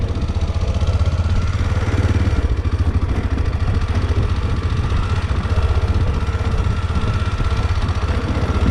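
A motorcycle engine runs steadily after a climb uphill, its low throbbing rumble and mechanical clatter close and loud throughout, with no voices over it.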